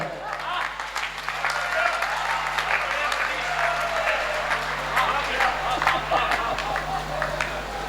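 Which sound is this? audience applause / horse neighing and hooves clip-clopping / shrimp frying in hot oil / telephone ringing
audience applause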